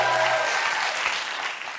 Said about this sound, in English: A little less applause for the baby